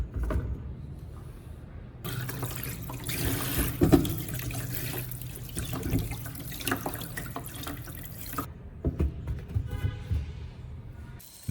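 Soaked sweet potatoes being rinsed under running tap water in a sink, with a steady close splashing stream and occasional drips and clunks throughout, no talking.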